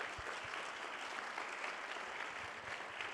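An audience at a benefit event claps in steady, fairly faint applause that continues evenly throughout, heard from within the room.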